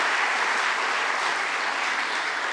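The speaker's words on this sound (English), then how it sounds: "can I have a huge round of applause for SEC?" An audience at a business school induction program applauds with a dense, even wash of clapping that holds steady and full for the whole stretch.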